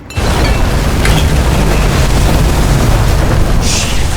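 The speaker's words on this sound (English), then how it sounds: "Fuses just blew." Fuses blow in the video game Nobody Wants to Die with a sudden loud boom, and a heavy, sustained rumbling roar follows and stays strong to the end.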